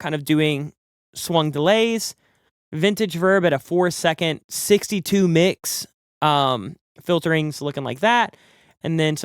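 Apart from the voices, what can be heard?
No distinct noise like a dog, phone or traffic.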